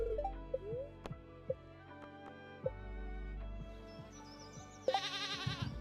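Goats bleat several times on the farm in Stardew Valley, short wavering cries spread through the clip among small chimes and game effects, ending in a louder, buzzy bleat.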